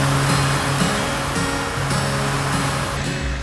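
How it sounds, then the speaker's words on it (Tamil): Silver Cascade waterfall in Kodaikanal pours heavily after rain, a steady loud roar of rushing water with no breaks, running continuously and close. "வெள்ளி நீர்வீழ்ச்சியில பயங்கரமா தண்ணி போகுது."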